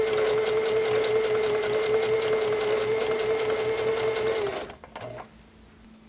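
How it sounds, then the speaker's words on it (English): Sewing machine running steadily while stitching the back seam of a pair of pants, a loud continuous mechanical hum for about four and a half seconds, then stopping with a few small clicks and handling noises. "I'm going to sew that first, and then I'll serge it and top stitch it."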